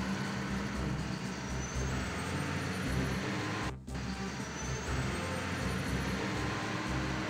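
A large video-game fire truck engine rumbles steadily, with a short air-brake hiss and a brief drop in the middle before the motor drone resumes.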